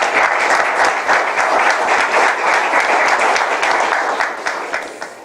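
Audience at a Dallas Peace Center event applauds for the speakers, a dense, steady roar of many hands clapping close by that fades slightly toward the end.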